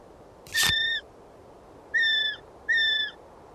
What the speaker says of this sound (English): Noisy miner.